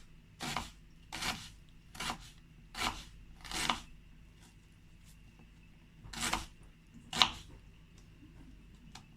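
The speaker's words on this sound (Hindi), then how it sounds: "प्याज जो है मैंने कट करके उसको सॉल्ट लगा के जो रख दिया है" A knife cuts through an onion on a cutting board in a home kitchen, seven separate crisp chops at uneven intervals, close and fairly quiet, with silence between strokes.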